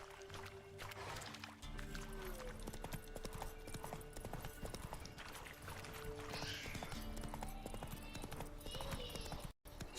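Geralt's horse Roach in The Witcher 3 trots with a quick, even clip-clop of hooves close by, steady for several seconds, under faint background game sounds.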